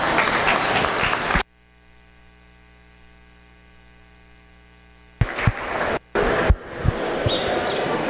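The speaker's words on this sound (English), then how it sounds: "Give those two a round of applause." Audience applause for two senior showmen at a dairy cattle show, a burst of clapping that drops out to a low electrical hum, then returns in choppy, uneven bursts.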